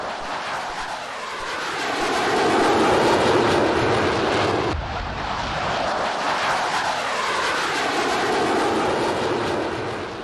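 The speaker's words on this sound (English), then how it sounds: "Tejas PB-1 took off first, followed by the pair takeoff by Tejas TD-1 and Tejas TD-2." Tejas fighter jets taking off one after another, with a loud, roaring jet-engine rush that swells, briefly dips, then swells again with sweeping pitch changes as they pass, no talk.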